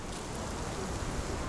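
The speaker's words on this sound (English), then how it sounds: "This dreary rain is making a miserable day even worse." Steady rain falls in a gloomy London street scene in the video game Sherlock Holmes The Awakened, a soft, even hiss of drops with no voices.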